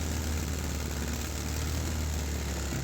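A 3D-printed fuel-injected engine with a PLA piston runs at a steady high speed, a dense continuous loud drone with no variation in pitch or level.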